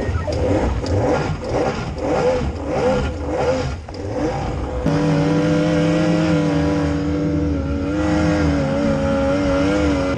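Inshore RNLI lifeboat engine running loud and close near rocks at Ogmore Deeps during a tide rescue, revving unevenly at first, then settling into a steady, throaty drone.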